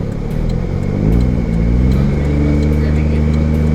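A Daihatsu Mira Turbo engine idling low, a steady close loud rumble with the pitch drifting slightly as it settles.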